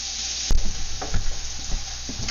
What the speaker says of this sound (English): you want to break up the pork so it's kind of evenly covering the bottom of the wok